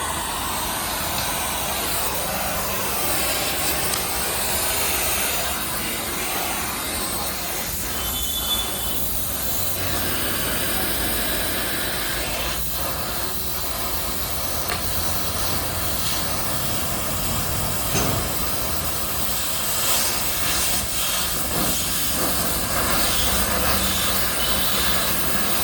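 A workshop machine bends leaf spring strips for a vehicle, giving off a steady, loud, broadband roar with scattered clanks and grinding that runs on without a break.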